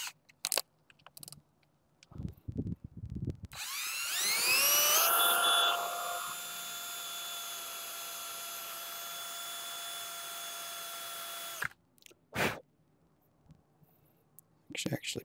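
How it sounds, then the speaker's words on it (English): A power drill bores pilot holes with a small bit into a feed pellet machine build, a rising whine that holds steady for several seconds before stopping abruptly, with brief clatter before and after. "So I'm going to try to drill two more holes in it. We're going to pilot them with a pretty small bit here."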